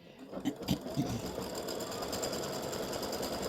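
A sewing machine stitches freestanding-lace embroidery for the beard of an Easter egg gnome, a faint, continuous rapid mechanical whirring that holds steady from start to finish.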